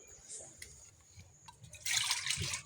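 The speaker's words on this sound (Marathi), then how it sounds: "तर पाणी टाकते तिला प्यायला" Water is poured from a vessel into a dish for an animal to drink, a soft trickle that swells into a brighter, louder pour in the last second, with quiet clinks just before.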